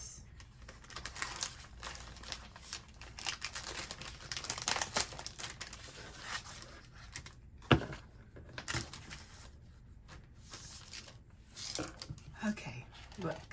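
Sticker sheets from a faith-themed subscription box rustle and crinkle as they are handled, giving a close, uneven stream of papery crackles that rises and falls throughout.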